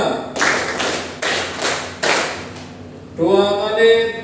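Pupils in a classroom clapping game beat out five sharp, even claps in unison at close range, and a voice begins speaking right after the last clap.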